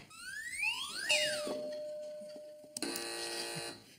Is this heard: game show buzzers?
yes